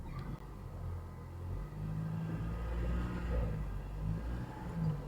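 Jeep Wrangler JK Unlimited Rubicon with the 2.8L CRD diesel rolling slowly over concrete, giving a low, steady engine rumble with mild rises in revs and faint whirring throughout.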